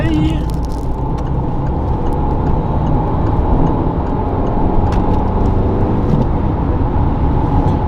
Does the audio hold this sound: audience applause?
no